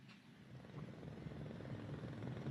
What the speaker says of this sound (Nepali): यो हेलिकप्टरबाट गणतन्त्र दिवस 2083 अंकित ब्यानर प्रदर्शन र पुष्पवृष्टि हुनेछ।